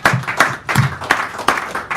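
Audience applause for poet Deanna Wolf at an evening poetry hour in a San Francisco café: a short burst of steady, moderately loud clapping from a small crowd filling the room.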